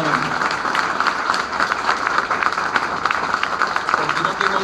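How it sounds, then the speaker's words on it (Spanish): Strong applause from the audience at a cultural event honoring a Necochea institution and the French society; dense, continuous clapping from a large crowd, sustained and loud throughout. "les pido un fuerte aplauso"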